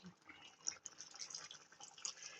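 Faint pouring and trickling as cooking water from boiled legumes goes into a country-style dried anchovy (nethili karuvadu) fish gravy, a soft, uneven splash lasting a couple of seconds.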